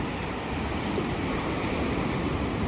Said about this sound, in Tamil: இப்போ ஒரு பெரிய அலை வருது